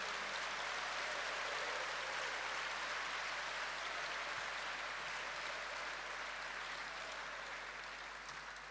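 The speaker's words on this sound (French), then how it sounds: "Give the Lord a clap." A church congregation claps together in a long, steady wash of applause, even and sustained, with no voices standing out.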